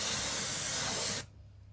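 Airbrush spraying paint over a 1/35 Dragon IDF Magach 3 plastic tank model, a close, steady airy hiss that stops abruptly.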